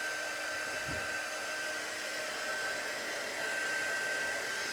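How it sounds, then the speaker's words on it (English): A heat tool blows a steady, loud, even stream of hot air to dry dimensional mixed-media craft work, running without a break from start to finish with no talk. "Let's just give that a blast with my heat tool so it dries."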